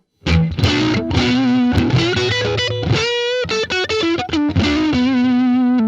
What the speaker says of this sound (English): Let's hear what the neck humbucker sounds like.